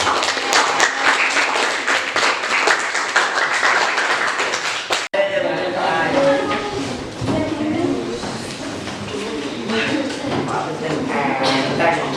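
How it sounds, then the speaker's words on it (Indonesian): Classroom applause for a student group during a school lesson, a dense burst of clapping lasting about five seconds before it cuts off and a student begins speaking. "beri tepuk tangan untuk kelompok si"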